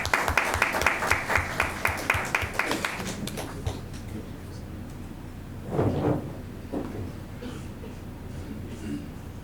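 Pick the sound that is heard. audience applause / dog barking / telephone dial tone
audience applause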